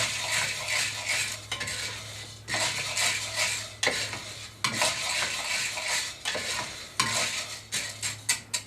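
Green coffee beans are stirred almost nonstop while they roast in a cast iron pan. A rapid, rattling scrape repeats in quick strokes close up, over a faint steady sizzle.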